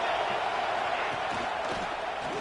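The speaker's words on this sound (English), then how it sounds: "this home crowd is fired up and ready to make a difference today" A home crowd roars at a college football playoff game, a dense, steady wash of cheering that stays loud and even throughout, with no single voice standing out.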